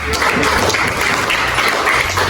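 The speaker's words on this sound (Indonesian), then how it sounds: "tepuk tangan untuk temannya" A classroom of schoolchildren claps for a classmate in a loud, dense and continuous burst of applause that fills the room briefly, with no talk over it.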